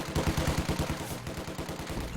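MG42 machine gun firing in a strategy video game, a fast, steady rattling burst of rapid evenly spaced shots at moderate distance, continuing through the whole stretch with a slight pause near the end.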